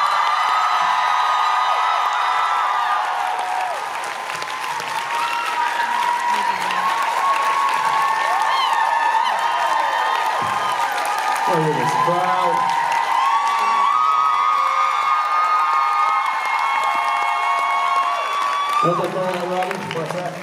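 A large convention crowd at a Supernatural fan panel in Vancouver claps and cheers loudly and continuously, with whoops rising above the sustained applause and a voice speaking over it at moments.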